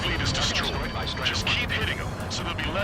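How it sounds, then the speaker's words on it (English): Anti-aircraft fire from an enemy naval fleet in Ace Combat 7, a steady barrage of popping flak bursts and rumbling explosions, dense and continuous, with radio voices talking over it. "Just keep hitting them, so there'll be less anti-aircraft fire to worry about."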